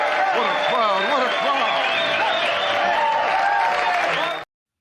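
Crowd cheering and applauding continuously with voices talking and whooping over the steady clapping, close and loud, cutting off abruptly near the end.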